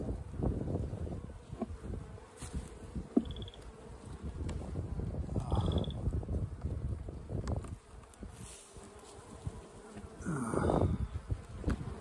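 Honey bees buzz continuously around newly transferred hives outdoors, a dense steady drone with individual bees passing close by the microphone, plus light wind noise.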